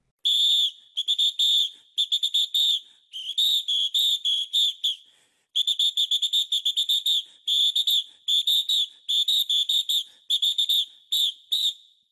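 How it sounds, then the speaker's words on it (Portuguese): A whistle is blown in repeated shrill bursts, grouped in quick rhythmic runs with short pauses between them. It is loud, close and alone. "Um apito!"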